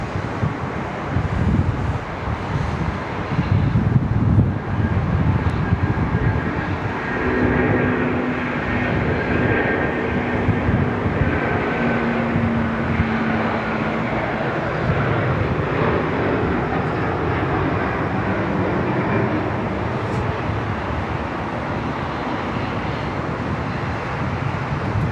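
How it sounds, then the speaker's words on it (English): A Philippine Airlines heavy jet with Rolls-Royce engines at Sydney Airport, a loud, steady engine roar with a rising whine that swells and holds for the full length, mixed with wind noise on the microphone. "Love the sound of the Rolls-Royce engines. They just sound so good."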